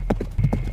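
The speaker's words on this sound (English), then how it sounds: "The sound of a galloping horse died away." Hooves of a galloping horse drum in a quick, close, uneven clip-clop rhythm, a short burst of sound on its own with no voices.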